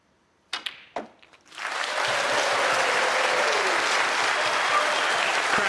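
A snooker crowd bursts into sustained, loud applause for John Higgins' 106 century break in a 2026 Players Championship quarter-final against Chris Wakelin, following a few sharp clicks and knocks at the start.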